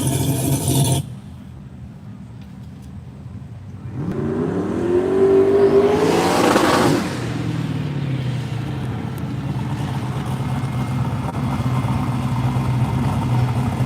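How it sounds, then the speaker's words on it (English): A C5 Corvette revs hard through a smoky burnout, its rising engine note building for a few seconds before dropping back. A steady loud rumble and crowd noise carry on after. "The old smoky burnout for the C5 vet."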